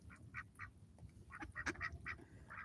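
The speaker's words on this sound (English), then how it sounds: "we're just here relaxing, watching the ducks eat." Several ducks quack in short, spaced bursts while feeding on barley, corn and black soldier fly larvae, the calls rising in a quiet, low-level backyard setting with steady low rumble beneath.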